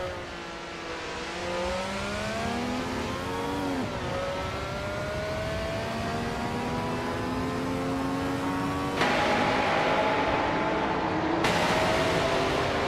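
Racing cars, including a 1971 Ferrari 312, howl steadily in a racing video game, their engines rising and falling through gear changes, loud and close, with a sharper louder passage near the end.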